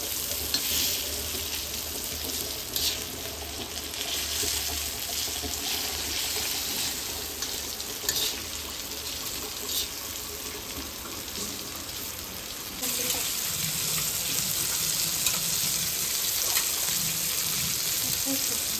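Prawn curry masala sautéing in a pan, a steady close-up sizzle and crackle that continues without a break and turns a little louder and brighter toward the end.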